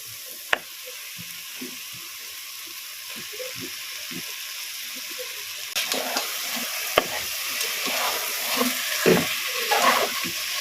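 Pieces of goat meat go into hot oil in a cooking pot and fry with a steady sizzle. Sharp clinks and stirring scrapes cut in, and the frying grows louder toward the end.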